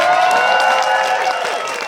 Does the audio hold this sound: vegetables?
no